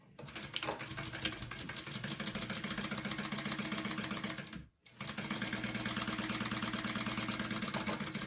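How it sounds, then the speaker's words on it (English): A sewing machine top stitching along the finished top edge of a fabric pocket runs in a fast, steady mechanical stitching rhythm, close and continuous, with one brief pause midway. "I'm just going to top stitch along the top here, my finished edge."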